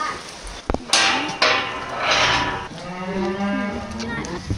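Cattle moo close by in several drawn-out calls, one after another, with a few sharp knocks and bangs between them and no talk.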